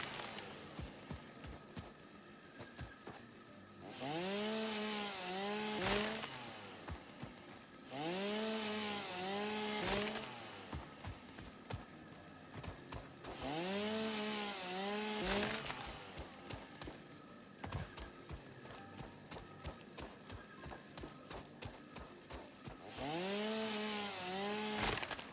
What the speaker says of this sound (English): chainsaw?